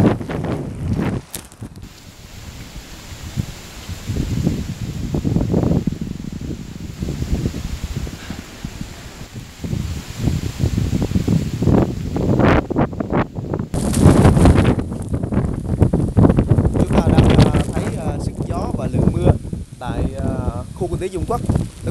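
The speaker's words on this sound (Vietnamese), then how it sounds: "mưa bắt đầu nặng hạt hơn, và gió thì theo từng luồng gió cũng bắt đầu mạnh lên tại khu kinh tế Dung Quất" Heavy storm wind gusts and rain at the Dung Quat economic zone, roaring and buffeting a microphone in bursts, loud and close, with a reporter speaking Vietnamese throughout.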